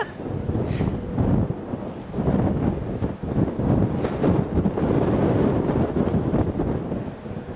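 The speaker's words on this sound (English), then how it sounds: "Is it me or is it getting windier?" Wind buffeting an outdoor microphone during a live chat, a loud, low, continuous roar that swells in gusts with no pause.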